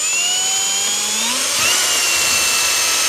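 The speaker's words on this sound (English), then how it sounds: "see if we can get these to drill right through" Power drill whirring steadily for a few seconds as it drives screws into a plastic interior panel of a Jeep Cherokee XJ, with a rising whine that shifts pitch midway through.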